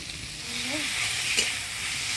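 Chopped onions sizzling in hot oil with whole garam masala, dried chilli and bay leaf for a mutton curry, a steady close frying hiss with a soft scrape of stirring.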